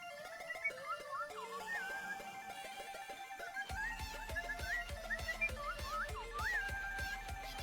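A person whistles along with a song, the clear wavering tune riding over a pulsing beat and bass, sometimes following the bass line and sometimes the melody, during Monster Hunter World Iceborne gameplay.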